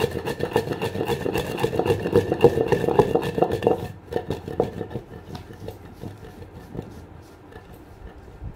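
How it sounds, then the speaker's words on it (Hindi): A mixer grinder whirs loudly and steadily as it grinds thandai ingredients including fennel seeds, running for about four seconds before cutting off and leaving quieter kitchen clatter. "अब हम इसे अच्छी तरह से पीस लेंगे।"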